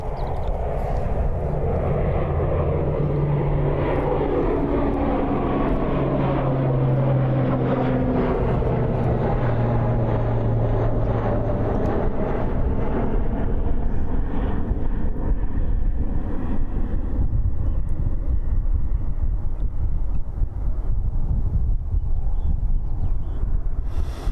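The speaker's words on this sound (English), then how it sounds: "Let's capture this ATR." An ATR turboprop flies past at Christchurch airport, a broad roaring drone with a sweeping pitch that fades gradually, heard outdoors with wind buffeting the microphone throughout.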